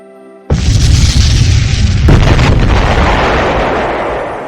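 A huge, sudden boom from the 1902 volcanic eruption of Mount Pelée breaks in loud and broadband, then roars on as a sustained, slowly fading rumble with no voices.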